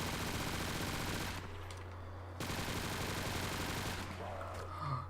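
Rapid automatic fire from a PPSh submachine gun in Call of Duty custom zombies on the remastered Nacht der Untoten map, loud, continuous bursts with a brief pause midway over a steady low game hum.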